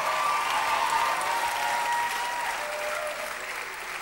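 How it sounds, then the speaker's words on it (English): A church congregation claps hands and shouts to God at a Sunday evening conference service, a loud sustained roar of applause and raised voices throughout. "take 15 seconds, clap those hands, and shout unto God"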